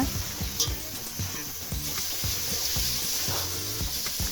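Onions sauté and sizzle in a pan, browning for a Coimbatore seeraga samba chicken biryani, with a steady close-up crackle and soft rhythmic stirring scrapes throughout.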